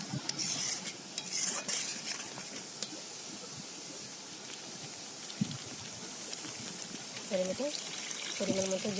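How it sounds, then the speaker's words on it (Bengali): Water poured into a frying spiced curry of taro for an ISKCON-style dish, bubbling sizzle with stirring clatter of a utensil against the pan, close, with someone talking over it. "এবার আমি দিয়ে দিচ্ছি জল অল্প একটু জল দিয়ে এটাকে আমি এক মিনিট মতো ফুটিয়ে নেব"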